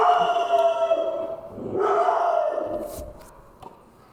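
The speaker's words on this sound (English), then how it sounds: "I just want you to know he's barking at nothing." A dog in a room gives drawn-out, howling barks, loud and close, rising and falling over a few seconds before fading.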